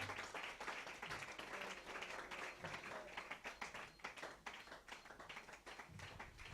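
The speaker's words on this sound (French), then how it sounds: "Donnez-lui une main d'acclamation" A church congregation claps together in sustained applause, a dense continuous patter of many hands that holds steady for several seconds, with faint voices mixed in.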